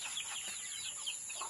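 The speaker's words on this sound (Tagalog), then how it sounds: "yun na lang yung mga manok namin oh" Farm chickens in their coop give soft, scattered clucks and chirps, faint and brief, over a steady high-pitched background whine.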